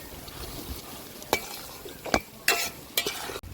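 Spices for chicken curry fry in a pan with a soft, steady sizzle, broken by a few sharp scrapes and taps of a spoon stirring against the pot, close by and without voices.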